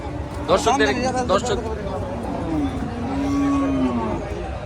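At Joypurhat New Haat livestock market, a cow lows with a long, drawn-out moo amid a busy crowd, with people talking and chattering nearby.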